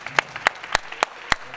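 A handful of sparse, separate hand claps from an audience honoring Sonja, about five sharp slaps spaced roughly a quarter second apart, fairly close with no talking.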